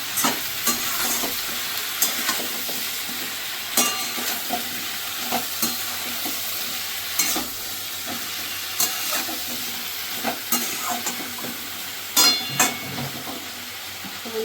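Pui saag stems with salt sautéing in a hot pan, giving a steady close sizzle punctuated by repeated clinks and scrapes of a stirring spatula, with no talking.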